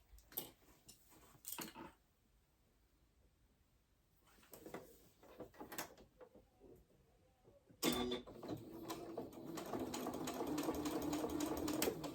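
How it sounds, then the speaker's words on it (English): A sewing machine starts and stops in short bursts, then runs steadily and louder in the second half, with a rapid mechanical chatter. "Come back to your sewing machine and just sew this up close to this edge."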